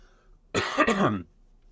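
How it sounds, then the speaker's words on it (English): A single close, rough cough lasting about half a second, loud against a quiet background. "I'm just going to cough"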